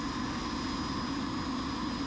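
Cirrus Vision Jet taking off from runway 29 right in Los Angeles airspace: a steady, even cockpit roar of engine and airflow holds at a fairly low, constant level throughout, with no voices.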